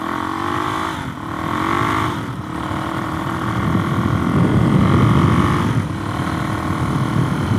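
A Suzuki DRZ470S motorcycle engine during a break-in ride, running loud and close with a steady drone. It rises and dips through a few throttle changes, then holds a stronger, rougher pull toward the end.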